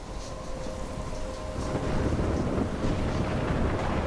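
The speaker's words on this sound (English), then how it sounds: "I'm trapped in the storm?" A thunderstorm in the video game Life is Strange rolls with heavy rain, deep rumbling thunder and gusting wind, a loud continuous wash that swells in the second half, with no voices.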